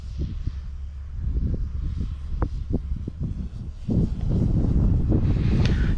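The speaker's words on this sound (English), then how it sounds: "it's a very windy day" Strong gusty wind buffets the microphone outdoors on a very windy day at a model trainer airplane's maiden flight, a steady low roar with sharp thumps that swells louder toward the end.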